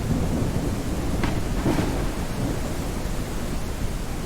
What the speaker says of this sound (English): But yeah, this is a thunderstorm.